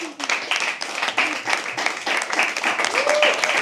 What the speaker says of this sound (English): Keep clapping till she comes on stage.